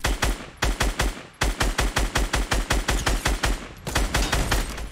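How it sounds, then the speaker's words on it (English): Rapid automatic gunfire in the video game Fortnite, loud and close, with tight repeated bursts of shots and brief pauses between volleys. "You're getting shot by the right guy."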